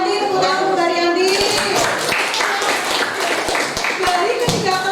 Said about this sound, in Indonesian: tepuk tangan untuk Mbak Haryanti